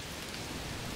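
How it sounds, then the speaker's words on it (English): Steady heavy rain pours in the video game A Plague Tale: Requiem, a dense, even hiss with no voices over it. "Of course it's raining."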